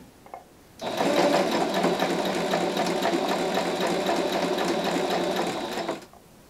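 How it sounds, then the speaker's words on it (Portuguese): Sewing machine stitching a hem in fabric, a steady mid-loud mechanical whir with rapid needle clatter that starts abruptly, runs evenly for about five seconds, then stops. "essa minha máquina, esse modelo de máquina, ele me possibilita a ver a posição da minha agulha"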